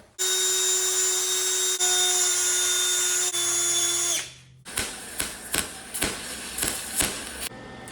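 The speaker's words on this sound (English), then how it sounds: "I'm going to drill my holes a minute" A power drill whines steadily at high pitch while boring holes into metal for welding on angle iron, then stops, followed by a run of rhythmic clanking and scraping taps.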